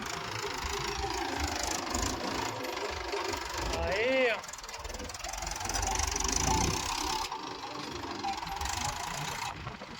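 A farm tractor engine runs steadily while dumping soil in a field, a continuous mid-pitched rumble carrying on throughout, with a voice talking over it.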